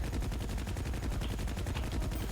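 Rapid automatic gunfire in the video game Battlefield Heroes, a loud, steady rattle of closely spaced shots filling the whole moment without pause.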